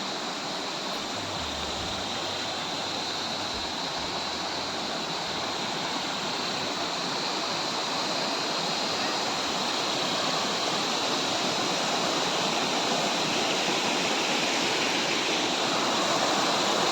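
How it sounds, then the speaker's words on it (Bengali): A small mountain stream and waterfall near Tawang, Arunachal Pradesh, rushes in a loud, continuous broadband roar that holds steady throughout, with no voices. "ছোট্ট পাহাড়ি ঝর্ণা আসছে দিক থেকে"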